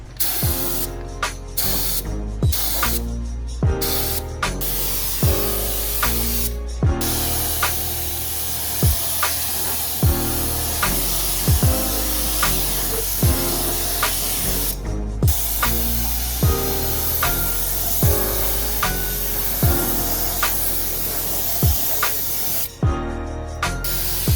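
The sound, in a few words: spray gun spraying a first coat of primer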